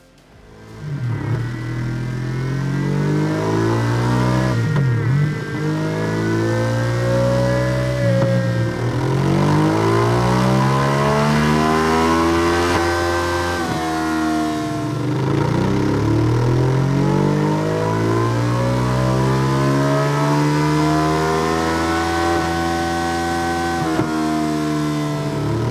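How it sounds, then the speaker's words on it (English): A Ducati Desert X 950 motorcycle engine revs steadily on a dyno for a long, loud continuous run, pitch climbing and falling through repeated sweeps with no talk. "we'll always run them up on the dyno, see what it's doing"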